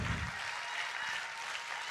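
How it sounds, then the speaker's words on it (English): A church crowd keeps clapping after a sermon, a steady, even patter of many hands at moderate volume, with a brief low thump at the start and no voices on top. "Come on, clap like you have energy."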